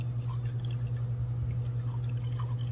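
Water being poured out of a hollow bowl made of ice trickles and drips softly and close up over a steady low hum.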